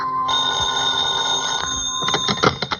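An old-fashioned telephone bell rings in a radio drama, a loud sustained metallic ring that breaks into shorter clattering bursts near the end, close and alone without speech.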